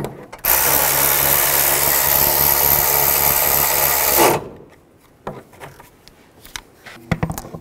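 Power tool running steadily for about four seconds while tightening a bolt on the water pump of a 2010-2017 Chevrolet Equinox, a loud continuous whir that stops abruptly, then quiet clicks and handling noises.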